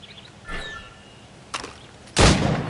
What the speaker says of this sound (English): Shoot these targets.